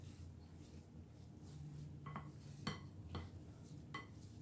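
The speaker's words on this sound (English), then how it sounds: "I'm going to stir it again" Spoon stirring a thick chia seed cracker mixture in a bowl for keto multi-seed crackers, giving a few soft scrapes and light clinks against the dish over a low, steady kitchen background.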